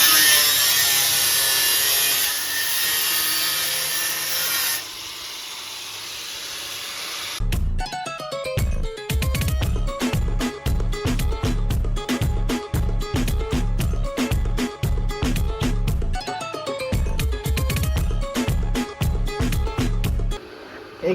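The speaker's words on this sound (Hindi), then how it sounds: "यहाँ पे दूसरा वाला काट रहे हैं।" Power cutting on a Scorpio SUV during an old-to-new body conversion: a steady loud hiss, then a long run of rapid harsh rasping strokes in a fast rhythm, close and alone.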